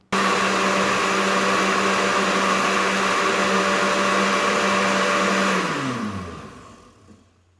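An electric mixer churning cream into butter, a steady loud motor whine with a constant tonal hum that holds for several seconds, then pitches down and fades out as the motor spins to a stop.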